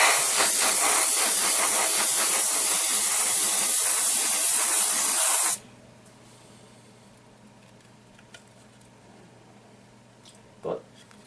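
An airbrush sprays thinned Vallejo Model Color paint, giving a loud, steady hiss for about five seconds before cutting off abruptly, followed by a quiet room with a faint click and a brief soft knock.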